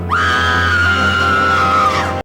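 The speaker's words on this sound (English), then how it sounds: "her screaming when she saw the dead body was a bit over the top" A woman in an audio drama lets out a single long, loud scream on discovering a dead body, a sustained high wail that holds steady for about two seconds before cutting off sharply.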